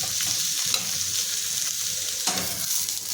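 Chopped onion, garlic, turmeric and fresh grated coconut roast in a pan on a gas stove, giving a steady sizzle with repeated scrapes of a spoon stirring, close and continuous with no talking.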